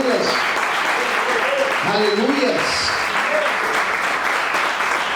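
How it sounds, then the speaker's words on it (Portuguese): Sustained applause from a church congregation during a worship service, loud and continuous throughout, with voices calling out over it. "Pode aplaudir esse Deus maravilhoso."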